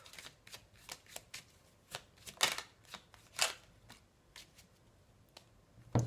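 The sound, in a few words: tarot cards being shuffled and drawn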